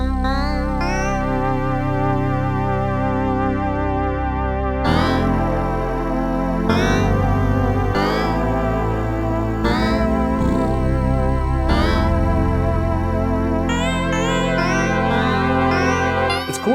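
Default startup patch of a 3rd Wave 8M synthesizer, a rich sustained polyphonic tone with layered harmonics and a shift in chord roughly every two seconds, played continuously and alone.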